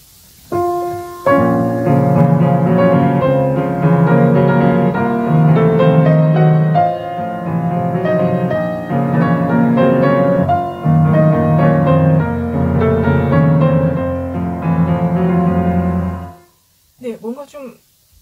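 Piano playing Schubert's Impromptu Op. 142 No. 3 with one sustain pedal held across two beats, so the notes blend into a rich, slightly blurred wash for about fifteen seconds before stopping, followed by a brief spoken voice.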